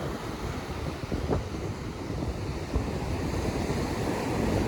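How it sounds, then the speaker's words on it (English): Breezy wind off the Atlantic Ocean at the Outer Banks, a constant loud rumbling roar of gusts buffeting the microphone over a broad wash of surf, with no talking. "It's really breezy out here,"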